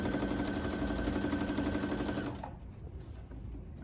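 A sewing machine runs steadily, stitching fabric for an upcycled skirt, its rapid loud whir continuing for over two seconds before stopping abruptly, leaving faint room noise.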